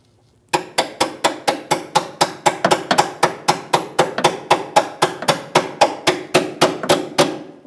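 A hammer taps a rear upper control arm bolt on a Chevrolet Malibu to seat it, about twenty sharp, evenly spaced metallic strikes, close and loud with no talking.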